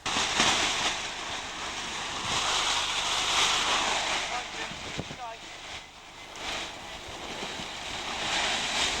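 Steady wind rushing across a hillside in Ethiopia where paragliders wait to launch, a continuous broadband roar buffeting the microphone, with a voice talking over it.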